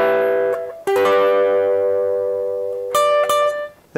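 Electric guitar picking out a song's chord riff, bright sustained chords struck in several separate attacks with ringing decay, clean and close, no talking.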